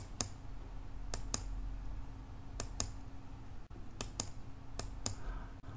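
Computer mouse clicks made while installing the GeoGebra software: about a dozen faint, crisp clicks, some in quick pairs, over a quiet room hum.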